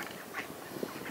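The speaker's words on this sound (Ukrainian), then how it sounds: "Бачимо ось наші качки, впевнено рухаються по воді" Ducks on a river give a few soft, somewhat distant quacks over steady outdoor background noise.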